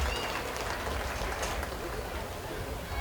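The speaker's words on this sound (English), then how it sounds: "Please give each of these kids a round of applause for a nice set of steers to begin this show." Steady applause from a crowd at a 4-H beef show at a county fair, honoring the kids who showed a class of market steers; a dense, even patter of clapping that holds from start to finish.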